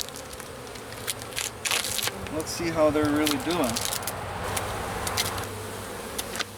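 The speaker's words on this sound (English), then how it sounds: "Looks like there's a lot of bees up here." Honey bees hum steadily around an opened hive during a spring inspection, their buzzing running beneath a man's nearby speech.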